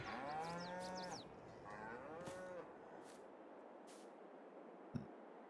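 Beef cattle in the Farming Simulator 22 video game moo repeatedly, with several drawn-out calls overlapping in the first half and a softer moo around the middle, over steady farm ambience and a brief thump near the end.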